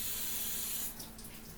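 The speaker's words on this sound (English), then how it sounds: "I'll have to wash it properly. With" Tap water runs into a sink while a dish is washed, a steady broadband splash that fills the first second and then drops to a softer trickle.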